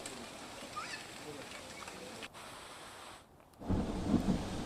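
Steady heavy rain hisses in Navsari, Gujarat, with a low rumble of thunder swelling near the end.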